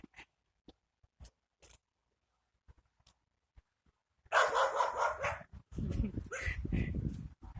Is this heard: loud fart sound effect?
no